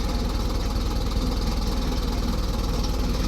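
A tractor engine runs steadily at a low, throbbing idle while a large machine lifts a load nearby, loud and continuous with a rhythmic knocking pulse and no talk.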